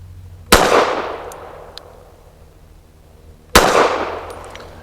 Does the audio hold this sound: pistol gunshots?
yes